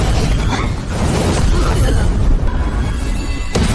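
A huge fire explosion from an animated fantasy series roars as a loud, continuous, dense blast that rumbles throughout.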